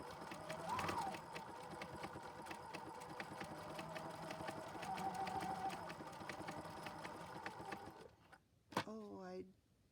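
A sewing machine stitches buttonholes in a steady rapid mechanical whir with regular needle ticks for about eight seconds, then stops; a short voice and a clatter follow near the end.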